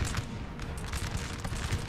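Massed musket fire from grenadier units in the Napoleonic battle game Napoleon Total War, a dense continuous crackle of shots with low rumbling booms, steady and fairly distant.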